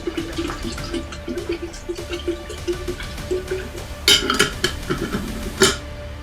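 Water poured into a bowl of yeast mixed with sugar, with a few clinks of dishes and a louder splashing rush of pouring near the end, close and alone without voices.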